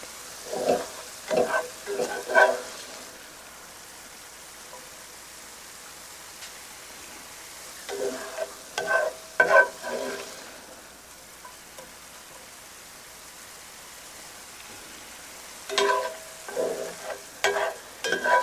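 Chili peppers sizzle while frying in a stock pot, broken up by three bursts of scraping and stirring separated by stretches of quieter steady frying.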